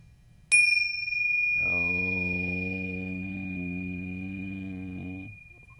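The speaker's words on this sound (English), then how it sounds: "Now ring the bell to end our session. Ring the bell like this here." A single bright meditation bell strike rings out clearly, then a low sustained hum swells underneath as the bell's tone lingers and slowly fades.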